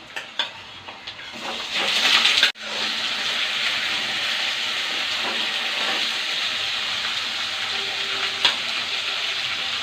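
Local chicken frying in a hot pan, a loud continuous sizzle with a burst of stirring early on and a sharp clatter before the frying settles into a steady hiss, no talk.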